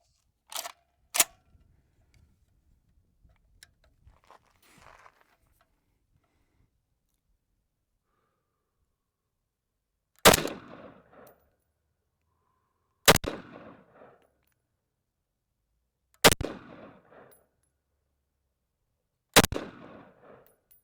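Sig 553P rifle fired at an outdoor range while zeroing an optic: six sharp, loud single shots, two close together early and four spaced about three seconds apart later, each with a short echo tail, quiet between.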